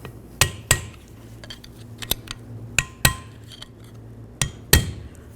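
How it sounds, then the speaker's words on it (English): Hammer tapping a wheel bearing into its groove on a 2009-13 Mazda 3 front hub, about a dozen sharp metallic knocks in irregular pairs and singles, close and clear against a quiet workshop hum. "Just come along the edge very carefully not to damage the bearing, and give it a couple loving bonks."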